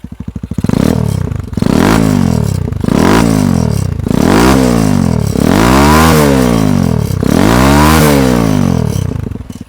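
A Sachs MadAss 125 motorcycle engine revs hard and loud at close range, climbing through about five repeated rising sweeps to high RPM with metallic rattling from the fixings, and no voices present.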